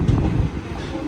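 The Venkatadri Express rolls along the tracks with a dense low rumble and airy rushing wind noise, a continuous close rattle with no voices.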